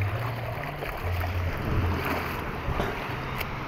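Sea waves wash steadily near the shore at Santa Cruz, a dense continuous rush of surf mixed with wind noise and a low engine hum in the background.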